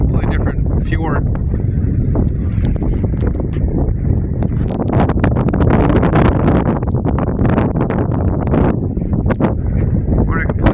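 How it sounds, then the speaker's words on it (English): Gusty wind buffeting the microphone on a path beside a Norwegian fjord, a constant loud rumble with sharper gusts throughout, and faint people talking underneath. "It's definitely windy now."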